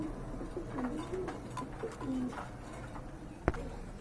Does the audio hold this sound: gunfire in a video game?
no